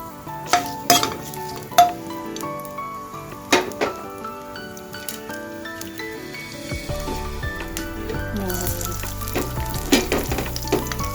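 Bay leaves hit hot oil for Assamese arhar dal, bursting into loud, sharp crackles and spits that settle into a steady close sizzle, with metallic utensil clinks scattered throughout.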